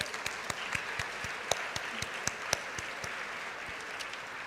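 An audience at a university convocation breaks into a big round of applause, dense and steady, with a few sharp, louder claps standing out near the front.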